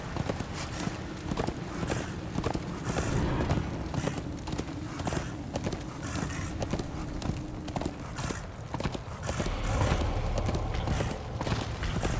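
Horse hooves clip-clop steadily in the action game Darksiders II, a continuous rhythmic trot of many close, crisp hoof strikes over a low ambient bed, lasting throughout without talk.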